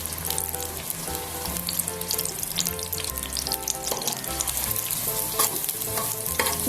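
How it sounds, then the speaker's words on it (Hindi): Chopped onions frying in a pan over a turned-up stove flame, a steady dense sizzle crackling loudly throughout with occasional stirring scrapes, no talking. "प्याज को हम लाइट सा ब्राउन करेंगे।"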